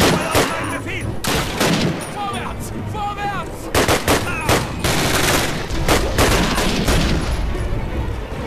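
Short bursts of weapon fire from the video game Call of Duty: United Offensive ring out in a loud, continuous street battle, with sharp repeated shots over steady background rumble.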